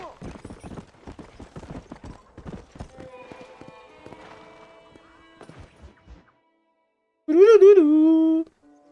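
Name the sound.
horse hooves clip-clopping in GTA video game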